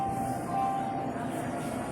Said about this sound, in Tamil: இது பாருங்கள், இந்த வண்டி, இந்த ட்ரெயின் தான் காமிச்சிருக்கோம் பாருங்கள்.